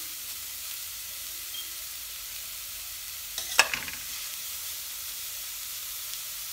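Grated carrot sizzles softly in butter for carrot ladoo, with one short scrape of a spoon stirring it midway through a fairly quiet, steady frying hiss.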